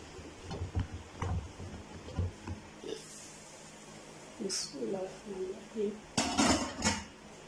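Metal clanks and rattles as a pressure cooker lid is opened after releasing pressure and a pot of mutton karahi is handled, with a person talking in between.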